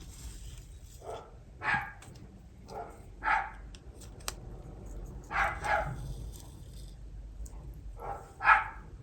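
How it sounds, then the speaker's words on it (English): Dogs bark in short separate bursts, some nearby and some farther off, against a quiet background. "One of the neighbour's dogs started barking,"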